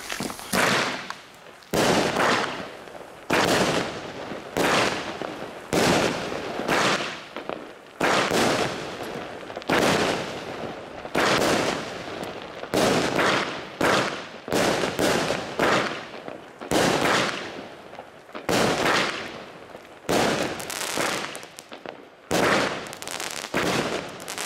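Royal Rain fireworks battery firing in a rapid series of sharp launches and crackling bursts, roughly a dozen loud volleys in uneven rhythm separated by brief pauses.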